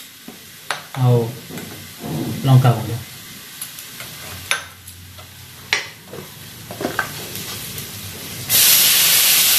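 Brinjal frying in a pan gives intermittent sizzles and stirring scrapes, with a louder continuous hiss building near the end while a person speaks briefly.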